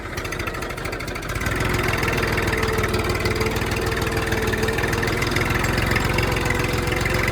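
A Massey Ferguson tractor engine running in high gear while pulling a 16-disc harrow, a loud, close, steady diesel drone with a knocking pulse that grows fuller after the first second.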